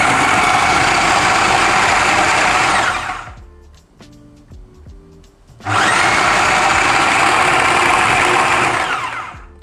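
A food processor grinds chicken meat in two loud, steady bursts, the motor whirring for about three seconds, stopping briefly with faint clatter, then roaring again for another four seconds.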